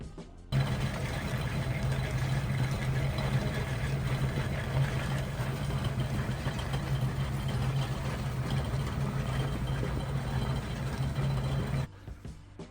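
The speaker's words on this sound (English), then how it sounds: "So I'll show you how they look together with the tumbler running." A new rock tumbler polishing Lake Superior agates hums with a steady, low motor drone that runs unchanged for about eleven seconds and then stops abruptly, with no voices.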